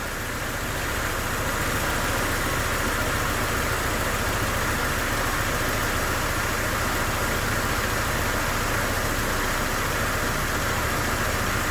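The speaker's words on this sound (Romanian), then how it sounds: "Acum vom porni motorul și vom analiza presiunea de lucru. Am pornit motorul, se pare că o să mă auziți mai greu" A car engine idling with the air conditioning running inside a garage, giving a continuous steady mechanical hum and hiss at constant level throughout.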